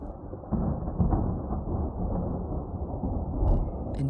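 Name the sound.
thunder snow rumbling during snowstorm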